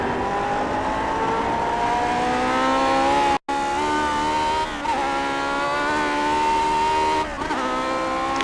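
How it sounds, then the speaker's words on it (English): Lotus 49 Formula One race car at full speed on a hot lap of Watkins Glen, its high-revving engine wailing loudly and steadily, pitch climbing through gears with brief drops at shifts and a short cut-out partway through. "So here's a hot lap of Watkins Glen."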